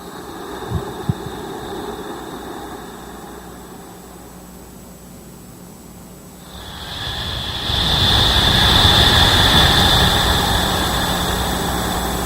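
A slow, steady hissing breath, like a humidifier, rising from quiet room hum into a loud, sustained breathy hiss that carries on to the end, with no talking.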